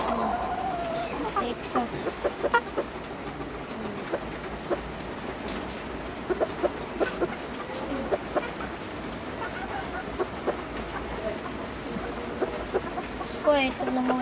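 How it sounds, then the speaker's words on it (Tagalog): Bantam chickens cluck repeatedly, along with some other fowl, while pigeons and bantams are being fed. A person talks steadily over the birds, and there is a constant low background rumble. "Ito naman po yung unahin natin na bantam"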